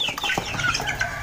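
Chicken clucking close by in an Indonesian backyard setting, a bird with a cold and snoring breath, several short rhythmic clucks over steady background noise.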